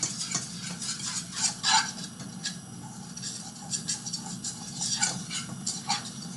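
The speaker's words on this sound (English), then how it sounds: "I'm going to whisk to combine." A whisk scrapes and taps steadily around a pot as a roux is combined, close and fairly soft, with irregular clinks and no talking.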